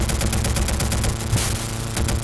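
Rapid, sustained machine gun fire from a biplane in the 1990 flight combat game Red Baron, a loud continuous rattling burst with steady engine drone beneath, no talk.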